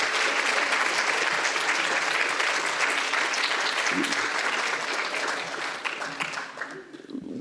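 A large crowd applauds steadily and loudly, a dense wash of clapping that thins and fades slightly toward the end.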